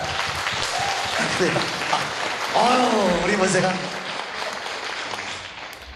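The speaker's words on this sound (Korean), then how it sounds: "박수로 영광을 돌립니다." A church congregation breaks into applause, a dense wash of clapping that swells and then gradually fades, with a voice speaking over it.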